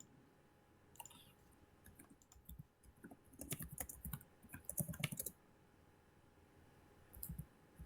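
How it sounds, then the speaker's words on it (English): Typing on a computer keyboard, quiet scattered clicks that bunch into a brief flurry of keystrokes in the middle before tapering to a few isolated taps, with no talk. "I hear somebody typing."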